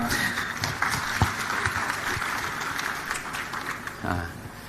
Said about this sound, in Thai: ขอเสียงปรบมือให้กับเวทีเสวนาเรื่องอนาคตอุตสาหกรรมทุเรียนเวียดนามได้เลยครับ